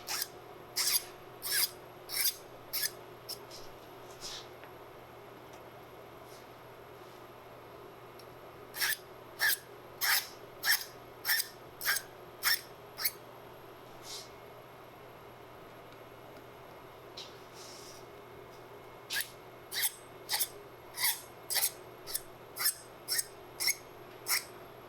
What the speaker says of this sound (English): need to get these all filed